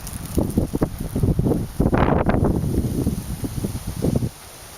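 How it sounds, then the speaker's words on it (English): Hurricane Isaac winds in southern Alabama whipping leaves and bending trees, heard as loud gusting rushes with rustling and microphone buffeting that drop off abruptly near the end. "These leaves are blowing around like crazy."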